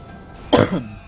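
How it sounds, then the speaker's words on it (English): A single sudden cough, loud and close into a microphone, heard alone with no talking and then trailing off quickly. "That was one of those sudden coughs."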